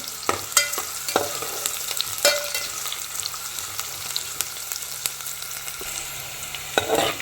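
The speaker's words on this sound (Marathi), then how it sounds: "एक मोठा बारीक चिरलेला कांदा घालायचा आणि छान हे परतून घ्यायचं आहे" Finely chopped onion sautéing in hot oil, a continuous close sizzle broken by repeated spatula scrapes and knocks against the pan, with no voices.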